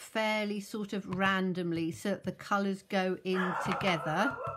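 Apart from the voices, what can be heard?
small dog barking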